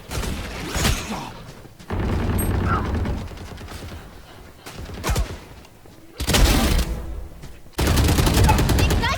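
Gunfire in the shooter game Valorant, with bursts of rapid automatic shots that come in loud dense blocks separated by quieter gaps and mechanical clicks, and a voice briefly heard.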